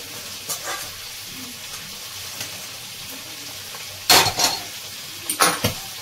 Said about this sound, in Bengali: চিকেনগুলো এত ফাটছে